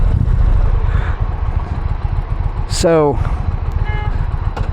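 An Indian Challenger motorcycle being ridden, its engine droning steadily with rushing wind noise throughout, while a rider talks over it and a brief chirping sound cuts in near the middle.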